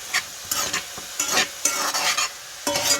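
Pumpkin stirred into a pot of Jamaican seasoned rice gives repeated bursts of spoon scraping and sizzling, loud and close, in an irregular rhythm with short pauses.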